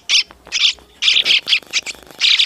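Baby trucukan and cucak kombo birds being hand-fed, giving loud, close, shrill begging chirps in rapid repeated bursts with brief pauses between.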